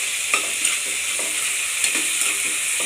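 Tomatoes fry in a pan with a steady, close hiss of sizzling oil, broken by the soft scrape and knock of a spoon stirring every half second or so.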